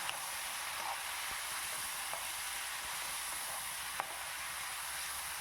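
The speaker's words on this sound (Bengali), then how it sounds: "আমি এখানে ম্যারিনেট করে রাখা টমেটোগুলো সব অ্যাড করে দিচ্ছি দিয়ে এবার আমাকে ভালো করে একটু কষিয়ে নিতে হবে" Marinated raw tomatoes sizzle in a hot pan with a steady, dense hiss throughout, a few faint clicks of stirring, close and even, no talking.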